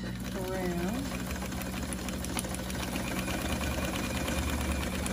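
A domestic sewing machine runs steadily while stitching paper junk journal envelopes, a continuous mechanical whir with rapid needle knocking, close and fairly loud, with a voice speaking briefly over it.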